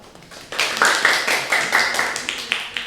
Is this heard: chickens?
no